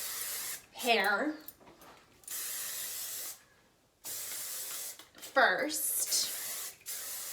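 Hairspray misted over curled, blow-dried hair in a couple of hissing bursts, close to the mic, with someone talking in between.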